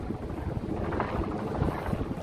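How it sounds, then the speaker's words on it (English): Wind gusting across the open flight deck of the Intrepid aircraft carrier museum in New York, a steady close buffeting rumble against the microphone. "it's windy up here"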